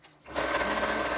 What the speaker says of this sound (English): now let's start with our sewing machine